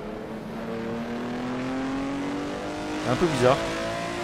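A BMW M1 Procar engine drones steadily in a racing simulator, its pitch slowly climbing. A brief tire squeal and engine warble come near the end, and someone speaks French over the car.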